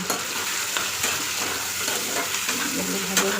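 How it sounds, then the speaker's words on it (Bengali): Pangas fish sizzles and spits steadily in hot oil, a close, continuous frying hiss with a few sharper crackles and pops throughout. "মাছের যে তেলগুলো ছিল সেগুলো দিয়ে দিয়েছে তাহলে এগুলো এখন ভাজা করে নিয়ে নিই"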